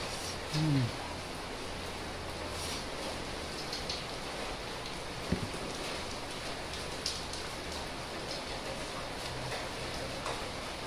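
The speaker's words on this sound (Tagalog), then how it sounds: "Sobrang lakas ng ulan guys." Steady, dense rainfall pours throughout, a constant wash of noise with a few faint knocks and a brief voice at the start.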